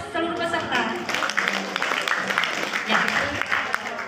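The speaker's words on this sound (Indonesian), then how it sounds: "Tepuk tangan buat seluruh peserta." Applause for all the participants of a contest, led by a teacher addressing vocational school students: a dense, steady patter of many hands clapping that follows a brief voice and continues with talk mixed in.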